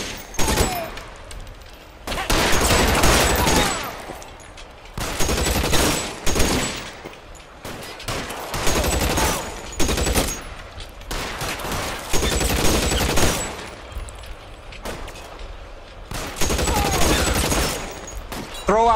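A shootout in L.A. Noire, with loud bursts of gunfire coming in repeated volleys every couple of seconds and separated by short quieter gaps, plus some voices among the shots.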